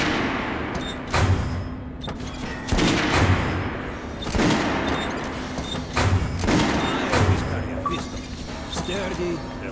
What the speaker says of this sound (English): Shotguns are always good for stopping power at close range. Fire!